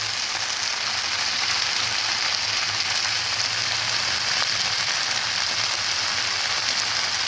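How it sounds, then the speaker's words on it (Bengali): Baby banana pieces frying with turmeric in hot oil for a Bengali curry, giving a loud, dense and continuous sizzle that holds steady throughout, with no speech. "এবার সুন্দর করে ভেজে নেব।"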